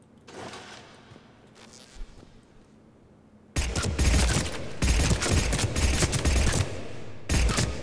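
Blood Pack Punisher submachine gun from the Mass Effect 3 Firefight DLC, with quiet handling noise at first and then dense, loud full-auto bursts rattling for about four seconds with brief breaks between them.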